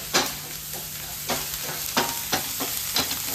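Ginger garlic paste frying in a pan for paneer 65, a soft sizzle under a handful of sharp spoon scrapes and stirring knocks spaced irregularly, no talking.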